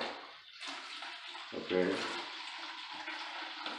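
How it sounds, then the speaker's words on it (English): Water is poured slowly into concrete floor primer during mixing for a self-leveling floor, giving a steady splashing and trickling wash throughout, with a voice speaking briefly over it. "So I'm just going to pour it slowly to the polymer, to the primer"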